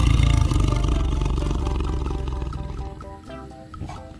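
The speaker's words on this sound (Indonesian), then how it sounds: "ternyata di dalamnya ada seekor harimau" A tiger roars loudly and at length, a deep rumbling growl that fills the clip and fades slightly toward the end, with no talk.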